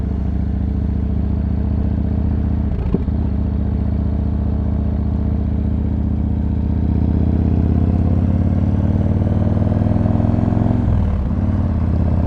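A 125 motorcycle fitted with a new exhaust pipe runs steadily with a deep, throbbing, continuous engine note that swells slightly toward the end, loud and close with no talk.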